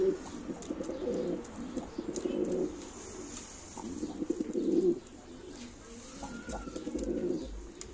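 Pigeons coo in repeated low, throaty rolling bursts, several overlapping, close by, with a faint background hiss and brief pauses between phrases.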